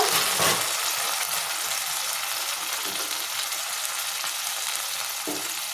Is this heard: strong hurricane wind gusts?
no